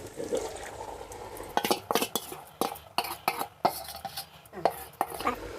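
Marinated chicken for chicken biryani is stirred into a hot pan, with a run of sharp spoon-on-metal scrapes and clinks, close and irregular, over a low kitchen hiss and no talk.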